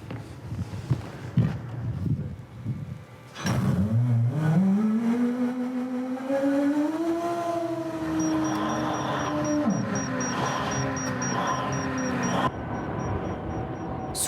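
A large mining truck drives through an open-pit coal mine, its engine droning loudly and steadily after a quieter start with faint background noise, and a thin high whine runs through the later part.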